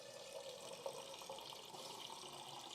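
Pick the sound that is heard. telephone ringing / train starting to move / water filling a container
water filling a container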